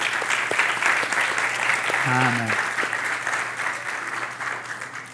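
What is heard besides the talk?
audience applause for the fathers in church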